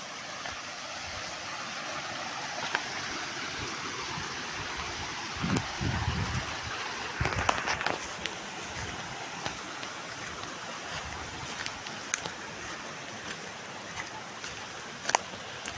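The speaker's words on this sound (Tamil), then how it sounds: "அதான் குதிக்குதே தண்ணி." Water pours steadily down a forest waterfall called Kattu Raja in Tirupattur district, a constant broadband rush heard from close by, with a few brief louder splashes and knocks.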